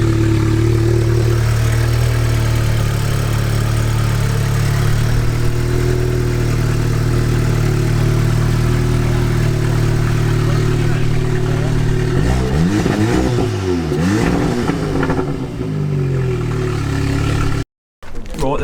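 A SEAT Leon Cupra with a decat exhaust, heard close and loud as a steady, deep idling drone with rising and falling revs near the end.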